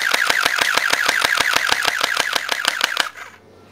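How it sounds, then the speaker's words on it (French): Tokyo Marui airsoft MP5 firing a burst: a rapid, evenly spaced run of about twenty sharp mechanical clacks at close range, stopping abruptly into a faint quiet tail. "on réarme et on tire. Donc on va essayer de faire une rafale."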